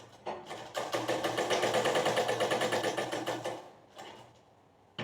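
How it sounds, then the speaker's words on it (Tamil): A sewing machine stitches fabric pieces for a baby frock with a steady rapid whirring run of about three seconds, then slows and stops, with a brief restart at the end. "பீஸ்க்கு மேலே கொஞ்சம் ஸ்ட்ராங்காக தைச்சிக்கலாம்"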